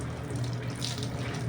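Tap water runs steadily into a sink during face washing, a constant close splashing stream with no talk over it.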